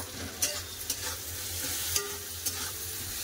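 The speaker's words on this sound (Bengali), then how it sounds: "পেঁয়াজ ভাজাতে একটু লবণ দিয়ে দেবো, যাতে পেঁয়াজটা তাড়াতাড়ি ভাজা নেবে" Onion frying with a little salt in a pan for a meat and potato curry, a soft steady sizzle broken by several light scraping stirs of the spatula, close and fairly quiet with no talk.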